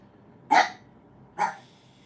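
Pekingese rescue dogs give two sharp, close barks about a second apart, with quiet in between and no talking.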